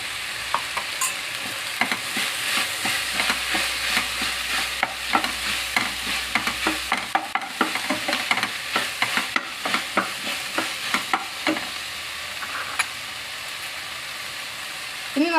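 Crushed ginger and garlic fry with tomato in a pan for a homestyle beef curry, a constant sizzle broken by many sharp scraping and clinking stirring strokes, loud and near, sometimes quickening.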